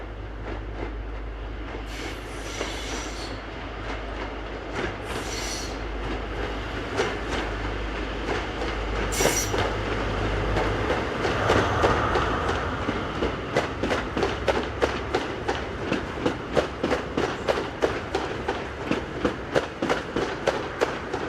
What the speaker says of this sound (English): While a service from Hereford to Paddington approaches and passes the soon-to-be-replaced